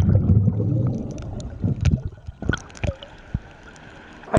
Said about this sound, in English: I splashed some water toward my camera